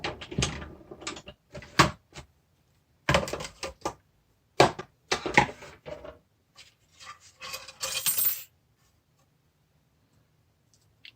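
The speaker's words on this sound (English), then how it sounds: "Die cut this real quick first." A die cutting machine running card through in irregular bursts of close mechanical rattling and grinding, separated by short pauses, then falling silent toward the end.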